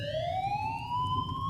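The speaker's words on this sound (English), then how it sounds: "Sirens." A police siren wails in a single rising sweep, a clear high tone with bright harmonics climbing steadily over a low rumbling background, fairly loud and without voices.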